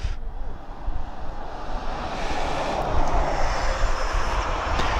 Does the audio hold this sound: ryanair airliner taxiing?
yes